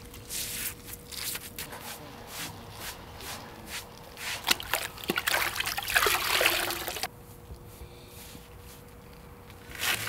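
Fluid joint mortar trickles and pours into the joints of polygonal paving slabs on a terrace, a soft continuous wet dribble with brief splashy swells, close by and alone without speech.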